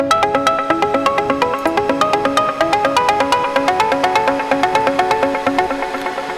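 A high, bright lead patch on a Moog synthesizer plays a quick, steady run of short plucky notes with a ringing, bell-like tone, loud and up close with no voices.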